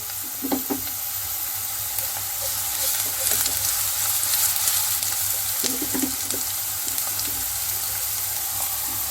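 Garlic ginger paste hitting softened onions frying over high heat, a dense loud sizzle throughout with occasional spoon clinks and stirring scrapes, close to the pan.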